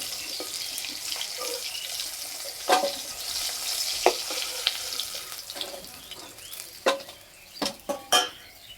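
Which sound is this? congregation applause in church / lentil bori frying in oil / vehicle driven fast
lentil bori frying in oil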